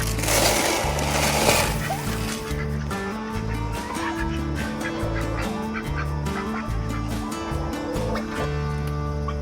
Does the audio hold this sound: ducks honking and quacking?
yes